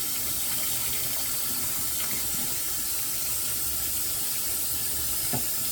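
A brush is rinsed under a running tap in a small craft workshop, with a steady, close stream of water splashing continuously into the sink and no talking.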